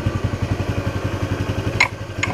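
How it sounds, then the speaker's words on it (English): A 1976 Honda XL175 motorcycle engine runs at a steady idle, close and loud, with an even rapid thumping pulse; a couple of short clicks or clinks sound near the end. "That's how nice that engine runs too."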